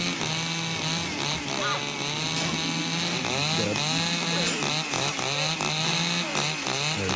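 A chainsaw revs continuously in the arena survival game The Culling, a loud buzzing drone with rising and falling pitch throughout, mixed with game sounds and faint voices.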